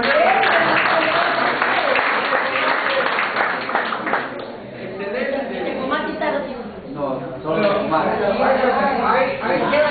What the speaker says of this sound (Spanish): denme un aplauso, compañero